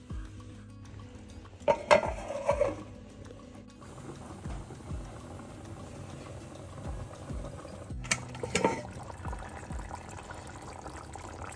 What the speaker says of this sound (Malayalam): ഉപ്പ് കൂടി ചേർത്ത് കൊടുത്ത് നന്നായിട്ടൊന്ന് ഇളക്കി കൊടുത്ത് അടച്ചു വെച്ച് നമുക്കിത് വേവിച്ചെടുക്കാം